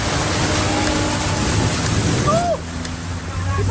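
Car driving through flood water during a storm, with a loud continuous rushing wash of water and wind around the vehicle, a brief shift in the roar midway and a faint whine, no clear talk.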